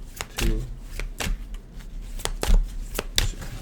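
Tarot cards shuffled by hand in a run of crisp riffling and flicking bursts, close and fairly loud, with faint voice noise underneath.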